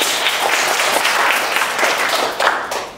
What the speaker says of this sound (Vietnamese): các anh chị hãy cho một tràng vỗ tay thật lớn ạ